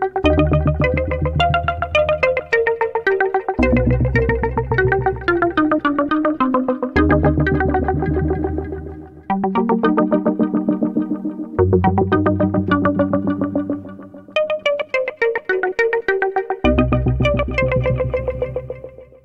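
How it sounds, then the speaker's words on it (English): A Hydrasynth synthesizer plays a lo-fi pad with delay modulated by a tape warble effect. Sustained chords shift in blocks with a wavering, pitch-bending quality and echoing repeats, loud and up close with no voices. "the delay mod is using the tape warble effect as well"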